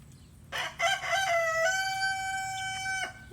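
A big rooster in a backyard chicken tractor crows loudly once, a rising call that holds a long, steady, harmonic-rich note before cutting off, with a few short clucks around it.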